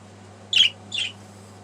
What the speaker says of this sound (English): It's probably going to be real hard to bond with these little birds because they just real happy with each other.